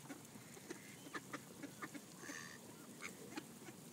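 Ducks quack repeatedly in short, irregular bursts while being fed, fairly close with a busy outdoor background.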